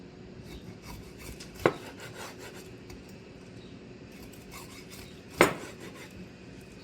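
A knife slices tender smoked pork ribs between the bones, with two distinct sharp cuts striking the board against a quiet background of soft rubbing and scraping.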